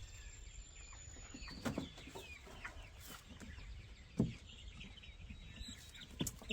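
Freedom Ranger chickens, including a five-week-old black breast bird, cluck and call around a farm yard, several short squawks and soft clucks spread across the clip over a low background hum.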